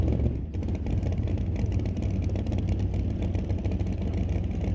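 Drag racing car engines idle and rumble at a racetrack during an NHRA Northwest National Open Series event at Mission Raceway, a loud, steady, low mechanical drone with slight fluctuations and no speech.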